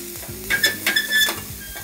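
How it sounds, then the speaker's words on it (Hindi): Finely chopped tomato frying in a pan, sizzling steadily with soft stirring scrapes and a few brief clinks over about two seconds, fairly close and with no talk. "अब इसमें हमने बारीक कटा हुआ टमाटर डालना है, उसको भी ढंग से भून लेना है।"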